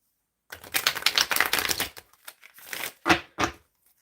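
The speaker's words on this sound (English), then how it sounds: "let me shuffle my tarot deck." A tarot card deck shuffled by hand: a dense, crisp flurry of riffling card flicks for about a second and a half, then a few separate slaps and taps as the deck is squared, close and clear.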